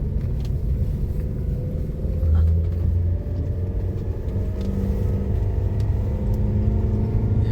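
A car rumbles steadily along a small, winding road on Nusa Penida, its engine drone low and continuous from inside the vehicle, with people talking over it.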